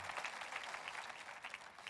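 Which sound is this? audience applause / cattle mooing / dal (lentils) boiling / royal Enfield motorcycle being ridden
audience applause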